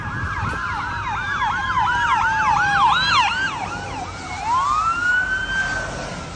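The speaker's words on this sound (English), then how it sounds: "It has really loud sirens on it." A loud ambulance siren wails nearby in rapid repeating up-down sweeps, then shifts into a slower rising tone.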